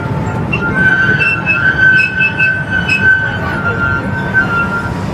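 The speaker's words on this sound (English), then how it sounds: "Yeah, that's a train." A small amusement park ride train at Fairytale Town rumbles steadily along with a sustained metallic wheel squeal riding over the low running noise, close and continuous.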